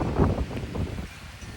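Wind on a freezing, rainy day at 18 degrees beside a deserted road, heard as a steady low buffeting roar with gusty surges against the microphone and no voices.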